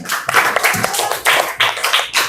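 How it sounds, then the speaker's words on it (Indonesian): Several people, a class of schoolchildren, clapping in a brief burst of applause, close and uneven. "Kita kasih tepuk tangan untuk kelompok Brazil."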